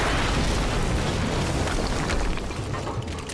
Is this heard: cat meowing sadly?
no